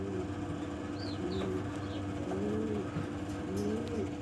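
Pigeons coo repeatedly in soft, rolling phrases over a steady low background hum, with a few brief wing flaps; homing pigeons kept in a loft.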